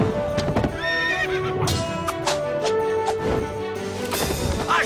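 Several horses neigh and whinny over hurried clip-clopping hooves, with crashing impacts mixed in, loud and close amid a busy action scene with musical tones underneath.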